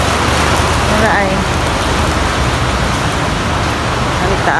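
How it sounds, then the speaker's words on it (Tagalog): Heavy rain pours down in a dense, loud, steady hiss, with passing traffic faintly beneath it and a voice briefly heard. "it's raining."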